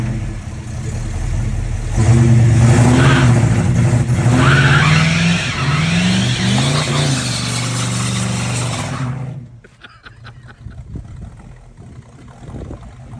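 A 1969 Oldsmobile Cutlass V8 with a B&M torque converter roars at high revs with tires screeching in a sustained burnout for about nine seconds, then cuts off, leaving scattered clicks and rattles.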